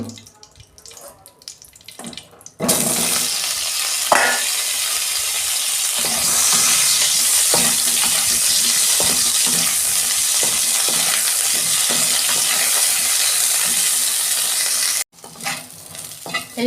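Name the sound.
cauliflower frying in oil in a pan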